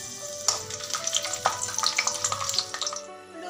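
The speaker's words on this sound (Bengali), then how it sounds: "কাজুগুলো ভেজে নিচ্ছি" Cashews fry in white oil in a pan, giving a steady close sizzle with crackles and occasional stirring scrapes, with no voices.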